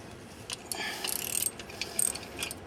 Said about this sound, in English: loosen up this center bolt.